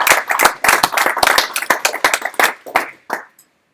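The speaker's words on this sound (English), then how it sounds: "Yeah, we're going to clap." An audience at a PHP meetup claps after a talk on Laravel design patterns, loud close hand claps in an uneven rhythm that thin out and stop near the end.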